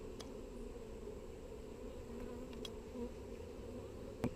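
A steady, dense buzz of many honey bees in an open hive hums continuously at close range, with a few faint clicks and knocks as frames are handled.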